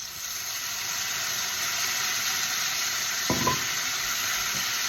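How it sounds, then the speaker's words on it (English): Blanched vegetables and a bit of sausage sizzle steadily in a hot pan with a constant loud hiss, while a brief scrape of a spoon stirring breaks in near the end. "Give it a good stir, coat it, and just I'm going to cook it until it's warm through."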